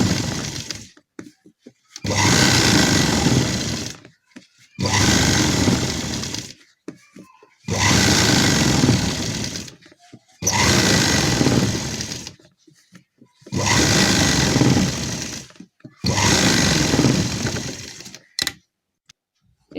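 Sewing machine stitching stretched elastic onto a gharara, running in six steady bursts of about two seconds each, separated by short pauses, loud and close with no talking.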